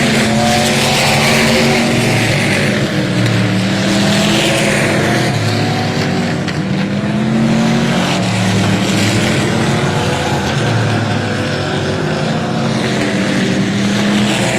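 Dwarf race cars roar around a dirt oval at Texana Raceway Park on a Saturday night, several engines droning loudly and continuously as they come down the backstretch into turn three, pitch rising and falling with passing cars.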